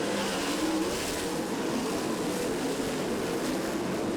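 Sprint cars race on a clay track during a speedway event, engines roaring in a loud, steady, continuous drone with no break.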